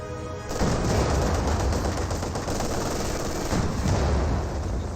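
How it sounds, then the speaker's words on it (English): Sustained MG42 machine gun fire in Company of Heroes 2, a dense, loud rattling burst running almost unbroken for several seconds against a T-70 tank, battlefield rumble underneath. "the MG42 is firing against the T-70, not against the infantry"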